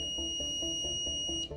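Electronic alarm tone from a ghost-hunting trigger device on a copper plate, a steady high-pitched tone with a fast pulsing buzz beneath it, loud and continuous before cutting off abruptly.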